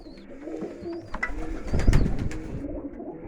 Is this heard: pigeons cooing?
yes